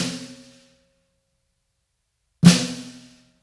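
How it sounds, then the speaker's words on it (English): Two separate drum strikes with wooden drumsticks, demonstrating a right-hand flam. Each is a sharp, close attack with a ringing decay, spaced about two and a half seconds apart, with no talking. "in order to get a proper flam,"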